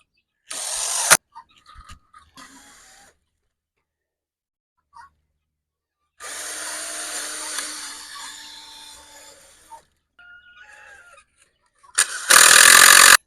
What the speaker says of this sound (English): I'm gonna use some 3-inch screws to connect the triangles. I'm gonna do 2 in each side.